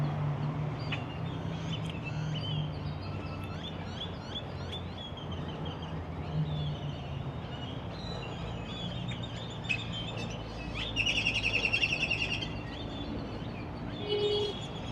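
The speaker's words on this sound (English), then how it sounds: "Listen to all those wonderful birds up there" Assorted birds call and chirp on and off outdoors in Las Vegas near Red Rock Casino over a low ambient rumble, with a louder burst of trilling calls near the end.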